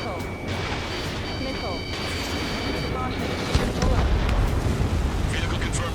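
Missile explosion in the flight combat video game Ace Combat 7, a deep booming blast and rumbling roar layered over continuous engine noise and game sounds, with radio voices heard alongside.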